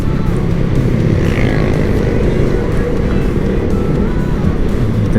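Constant loud engine drone of heavy road traffic, with many motorcycles passing close on a Philippine street, a steady rumbling roar with no breaks.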